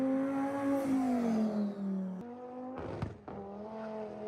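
A car finishing a lap on a track, its engine whine sliding downward in pitch, then briefly cut by a rushing burst before the engine tone returns at a steady level, all moderately near.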